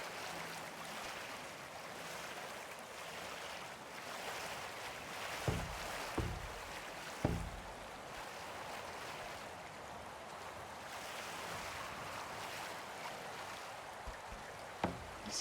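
A video-game boat driven by an energy sail glides steadily over water: a constant soft rushing wash and hiss with a few short knocks and splashes midway and near the end.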